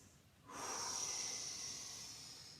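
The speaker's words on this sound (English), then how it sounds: "Deep breath in." A slow, deep breath in during a yoga session, a soft airy hiss that swells after a quiet moment and holds for a couple of seconds, close and gentle, with no speech.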